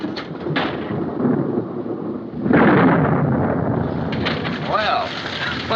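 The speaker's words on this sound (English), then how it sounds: "What's that? Just lightning." Thunder from a storm rumbles through a 1942 film scene, a broad roll swelling midway and lingering under faint background noise, with a brief voice near the end.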